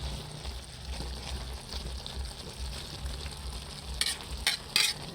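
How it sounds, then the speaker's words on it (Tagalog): Laing, soft taro cooking in coconut milk, is stirred gently in a pan, giving a quiet, steady simmering hiss that turns to a few soft, wet scraping strokes near the end. "Dahan-dahan sa paghalo para hindi madurog."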